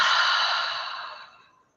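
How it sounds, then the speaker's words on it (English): A single deep breath drawn in through the nose and let out through the mouth during a guided breathing exercise, a long soft airy exhalation that is loud at first and fades out over nearly two seconds. "Let's begin with a nice deep full breath. In through the nose, out through the mouth."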